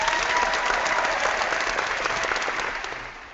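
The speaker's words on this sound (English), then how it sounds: "that's actually a double clap because of the comment you made and the thanks" Applause from a small crowd, steady and close, lasting a few seconds before tapering off slightly at the end.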